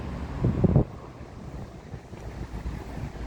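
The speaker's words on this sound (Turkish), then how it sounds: "Biraz da rüzgarlı." Gusty wind buffets the microphone outdoors, with a stronger rumbling burst near the start and then a steady low rush.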